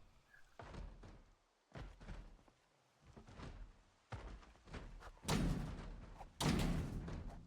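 Zombies in Project Zomboid batter a door, a series of about seven heavy thuds and bangs at uneven intervals, each one louder and closer toward the end.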